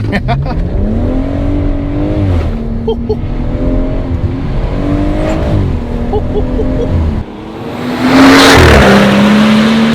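A BMW M140 with a Remus exhaust revs loudly, engine notes climbing and falling in several repeated pulls, ending in a sharp, raspy burst close by.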